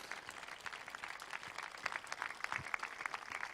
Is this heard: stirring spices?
no